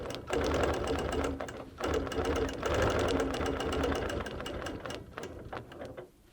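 A sewing machine stitches a quilt along a ruler, up to an appliqué, running in steady bursts of fast mechanical chatter with brief pauses between runs, close and alone.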